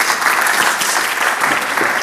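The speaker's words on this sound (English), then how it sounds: "So round of applause for Michael." A seated audience applauds a panel speaker at a financial markets session, loud, dense and continuous clapping filling the whole moment.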